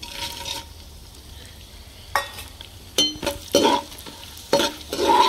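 Sunflower seeds fry in an open pan while a spoon stirs them, giving a soft steady sizzle broken by several sharp scraping and rattling strokes.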